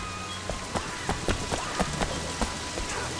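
Rain falls steadily in the video game Sleeping Dogs, a dense hiss with scattered sharper drop splashes and taps hitting surfaces nearby, heard alone with no voices.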